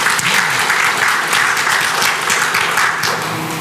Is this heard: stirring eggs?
no